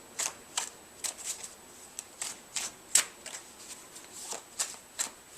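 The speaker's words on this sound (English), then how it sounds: "more convincing would be a false overhand shuffle" False overhand shuffle of a deck of playing cards in a card trick, heard as a quiet run of crisp riffling and slapping bursts, irregular and close, with no one talking.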